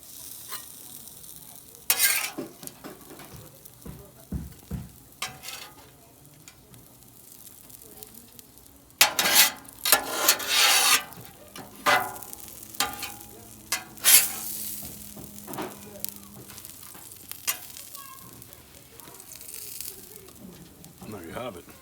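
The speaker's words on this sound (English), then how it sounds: "Now we're gonna throw our onions on." Onions and peppers sizzle on a Blackstone 28-inch griddle for cheesesteak, with a steady frying hiss broken by scraping, stirring clatter and louder bursts as the vegetables are turned.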